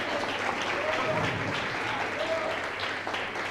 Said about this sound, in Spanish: Renovamos ese aplauso.